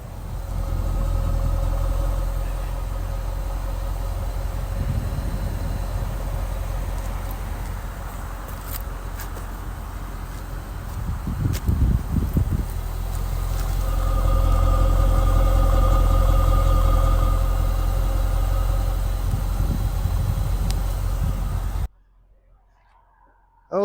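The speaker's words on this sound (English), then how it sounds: "Okay, so that'll do it for our listening to the sounds of the engine." A 2003 Mercedes-Benz SL 500 roadster with dual exhaust idling steadily, a low rumble heard up close with a slight swell mid-clip before cutting off abruptly near the end.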